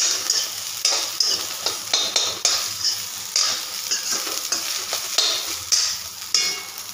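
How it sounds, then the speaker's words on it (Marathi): Onion roasting in a pan as the base for Punjabi-style chole, a bright continuous sizzle with repeated metallic scrapes and knocks of a spatula stirring throughout, close and fairly loud, no talking. "आता व्यवस्थित भाजून घ्यायचं। कांदा थोडा भाजत आला की आपण ह्याच्यात लसूण आणि अद्रक सुद्धा ॲड करणार आहोत।"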